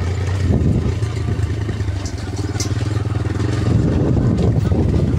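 A motorcycle engine putters steadily at low revs as it rolls downhill on a rough road, fairly close, with some clatter and a faint voice in the background.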